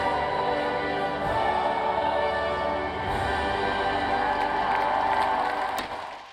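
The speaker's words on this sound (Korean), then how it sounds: "엘리자베스 2세 여왕이 지팡이를 짚고 버킹엄궁 발코니에 등장하자 환호성이 터집니다" A large crowd cheers and whoops outside Buckingham Palace as Queen Elizabeth II appears on the balcony at the Platinum Jubilee closing, a sustained roar of many voices that fades near the end.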